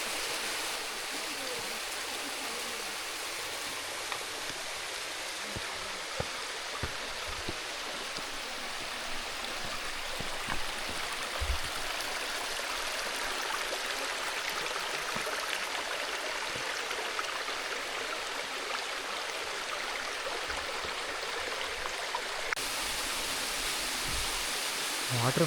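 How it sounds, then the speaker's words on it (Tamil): A waterfall in Gabala, Azerbaijan pours steadily, a broad, even hiss of rushing water that holds unchanged throughout, fairly close and continuous. "வாட்டர் ஃபால்ஸ்னு சொல்கிறதுக்கு இது ஒன்று மட்டும்தாங்க வந்து பரவாயில்லாமல் இருக்குது."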